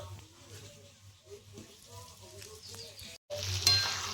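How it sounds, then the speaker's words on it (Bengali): Raw mango pieces fry in oil with a soft steady sizzle while a utensil stirs and scrapes the pan in slow irregular strokes, ending in a brief louder burst of hiss and a light metallic clink. "তেলের মধ্যে আমটা দেওয়ার পর আমি 2 মিনিট মতো এরকম নেড়ে চেড়ে নিয়েছি।"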